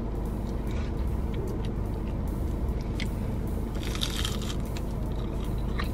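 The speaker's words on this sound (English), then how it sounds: "You hear that crunch?" Fried butterfly jumbo shrimp dipped in cocktail sauce being bitten and chewed inside a parked car, with crisp, close crunches that stand out most strongly midway, over a steady low cabin rumble.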